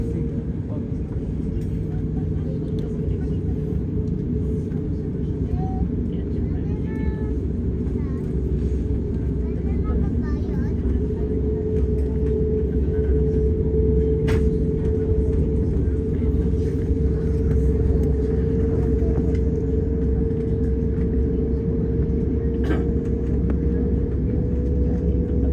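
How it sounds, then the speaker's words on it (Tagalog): Cebu Pacific airliner cabin during takeoff: a steady, loud low engine roar and rumble holds throughout, with faint cabin sounds and occasional voices beneath it. "Cabin crew, takeoff stations. Take off."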